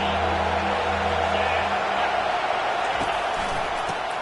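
A football stadium crowd in a video game, a dense, continuous roar of cheering and noise filling the space at a steady loud level, with faint voices mixed in.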